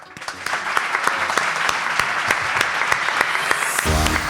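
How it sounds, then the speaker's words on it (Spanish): Live audience applause at a Spanish-language science show event, honoring a remembered person; dense steady clapping fills the room throughout, with a brief shift in texture near the end. "quiero que el primer aplauso de este Mindfax en vivo con todos vosotros sea para recordar a Fran"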